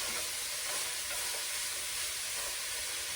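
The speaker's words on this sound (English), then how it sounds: "We'll add that in and start letting those onions sweat." Chopped onions sweat in a soup pot for chicken and rice soup, giving off a steady, soft broadband sizzle and hiss that runs unbroken throughout with no voices.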